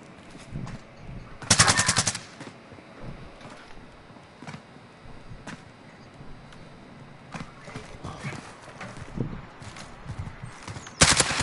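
Video game machine gun fire firing red tracer rounds comes in loud rapid bursts, one long burst early on and another at the end, with scattered shots and clattering in between.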